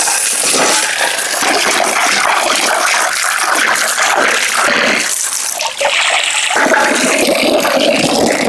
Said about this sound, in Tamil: சிக்கன் விங்ஸ் டெவலுக்கு தேவையான காய்கறிகளை கழுவி எடுத்துக்கிறோம்